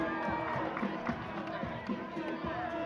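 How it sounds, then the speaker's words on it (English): Arena crowd noise from a Tauihi women's basketball semi-final, Northern Kahu vs Mid-North Whai: a steady, loud wash of spectators murmuring and cheering, with squeaks and thumps on the court under it and an announcer's voice mixed in. "Cheer them on, ladies and gentlemen."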